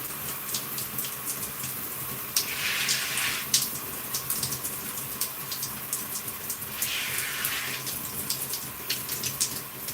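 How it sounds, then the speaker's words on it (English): Water from a tap runs and splashes onto hair in a steady hiss, with two fuller gushes as the flow strengthens, then eases back. "Cut the water on it, add a little bit of water."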